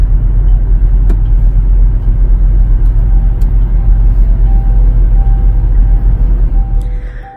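A car cruising along a road behind a formation of other vehicles, a loud steady low rumble of engine and tyre noise from inside the cabin that fades at the end, no talking.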